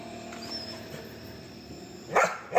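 A dog frightened by firecrackers barks a couple of times near the end, two short loud bursts after a stretch of quiet background hum.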